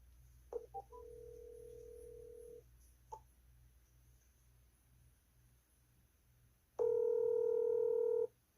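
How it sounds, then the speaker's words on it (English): A mobile phone rings from somewhere out in the back yard, in two sustained electronic tone bursts with a quiet gap between them and no talking. "My daughter's phone is somewhere in the back yonder, and you'll be able to hear it ring"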